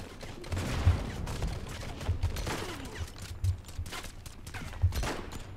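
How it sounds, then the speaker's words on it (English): Repeated assault rifle fire in the shooter game Modern Combat 5: Blackout, a steady stream of moderate shots with periodic heavier thumps, mid-distance under a busy battle mix. "It's too many people shooting at me, man. With, like, assault rifles and stuff."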